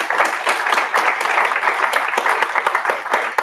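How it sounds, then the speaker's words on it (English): Loud, dense applause from an audience at an evening data science lightning talks event, with steady clapping throughout. "so can we get a round of applause for them,"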